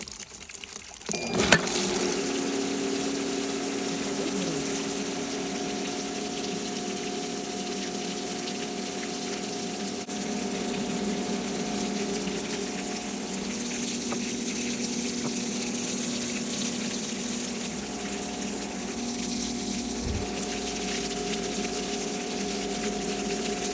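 Sand filter pool pump running on backwash, a steady motor hum with rushing water that starts abruptly and then holds constant, close and moderately loud.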